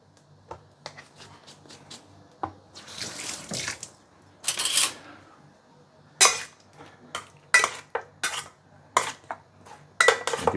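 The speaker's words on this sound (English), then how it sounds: "And give it a few stir." A utensil stirs fish in a pan with Shaoxing wine and white pepper, giving a string of sharp scraping and clinking strokes in uneven rhythm, close and moderately loud.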